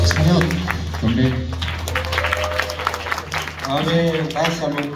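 A church congregation applauds during a Sunday service, a loud and full burst of clapping that runs throughout, with voices speaking over it.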